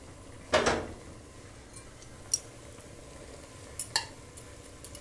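Ground beef picadillo being broken apart and stirred in a pan, with one loud scrape near the start followed by a few lighter clinks and scrapes, all without talk.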